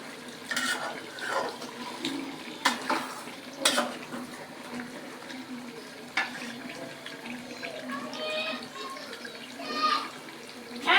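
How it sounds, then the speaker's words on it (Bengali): Hot water pours into a pot of browned beef curry, a splashing gush with clinks of pot and utensils while a voice talks softly at times. "গরম পানিটা দিয়ে দেবো"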